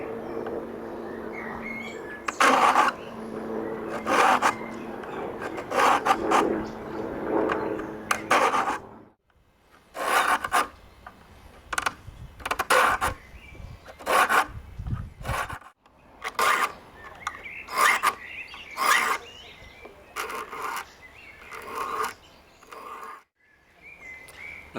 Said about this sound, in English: you'll be filing with a horizontal file and still get your slope angle